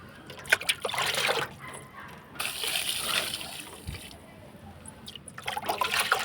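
Water trickles and splashes onto a potted tomato plant in soft, uneven pours with short pauses, fairly faint and close.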